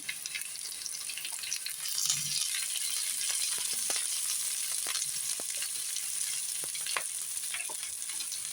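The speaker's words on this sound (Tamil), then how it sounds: "இப்போ கட் பண்ணி வச்சுருக்கிறேன் க்ரீன் சில்லியை போட்டுடலாம்." Green chillies frying with onions on a tawa for tawa vada, giving a soft, even sizzle with scattered light stirring scrapes.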